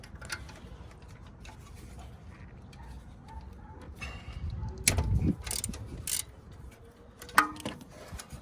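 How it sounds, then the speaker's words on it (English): A ratchet with a 10 mm socket works a bolt loose from a connector plug during a 2006-2011 Honda Civic alternator replacement, giving quiet close clicking and tool clatter that grows busier toward the end, with a sharp knock near the finish. "we're gonna remove this 10 millimeter bolt that holds this connector plug"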